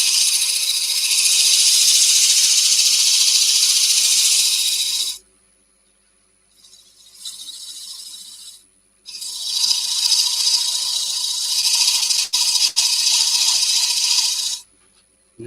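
A turned box of rippled olive ash is sanded on the lathe with 120 grit paper, giving a loud, steady hissing rasp in two long passes with a short burst between and silent gaps.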